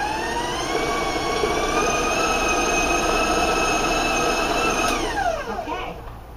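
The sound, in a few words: electric mixer beating cookie dough at high speed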